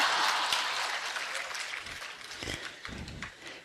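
An audience at a Hindi religious sermon claps, a dense burst of applause that is loud at first and then thins into scattered, fading claps.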